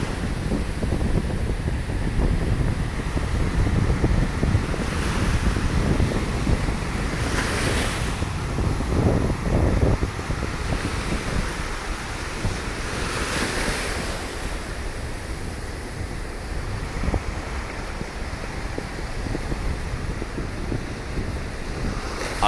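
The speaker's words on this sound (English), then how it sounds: "show you the waves, let you hear the sounds, and I hope the wind isn't getting over the mic too much" Ocean waves and wind at Panama City Beach on a morning, with a constant roar of surf breaking and heavy wind buffeting the microphone, loud and steady throughout.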